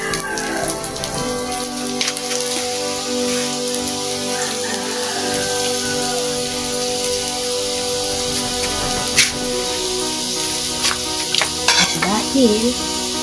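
Food frying and sizzling in a pan while it is stirred, a steady crackle with scraping stir strokes and brief clinks toward the end.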